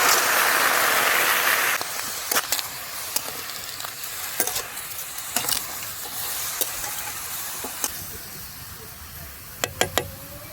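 Tomatoes, garlic and dried chillies cooking in a pan for homemade tomato sauce. A loud hiss bursts up at the start, then settles into a softer sizzle with scattered sharp clinks and scrapes of stirring.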